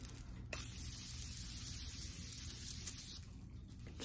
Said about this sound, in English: I'm gonna use my Morphe Sweet Peach setting spray